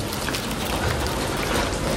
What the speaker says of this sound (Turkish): İnanılmaz yağmur yağıyor.